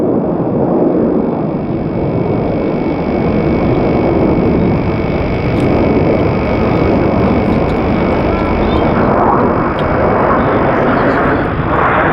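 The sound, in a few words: display aircraft flying high over airshow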